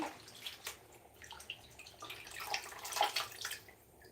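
Leafy greens being rinsed in water, with soft splashing and dripping in quiet irregular bursts close by.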